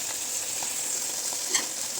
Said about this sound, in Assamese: পিঠাখিনি ভালকৈ ভাজিব পাৰে